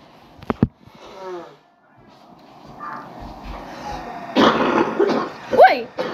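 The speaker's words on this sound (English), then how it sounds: "my whole body hurts when I cough" A sick person coughs in a few sharp bursts near the start, with throat-clearing sounds, then people talk over it.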